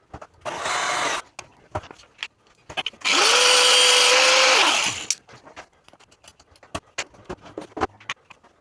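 A power tool grinds the top off a screw or nut bolt so a pannier lock fits better, in two loud bursts, a short one and then a longer steady whining cut, with quieter clicks and handling noises around them.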